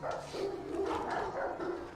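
Dogs barking in a Game of Thrones scene, repeated muffled barks and yips blending into a busy, slightly distant backdrop with no clear speech.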